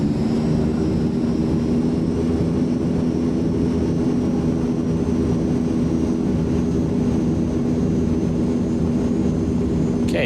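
Steady engine roar of a C-160 transport aircraft at takeoff power, with loud continuous low hum and tonal drone throughout, no voices.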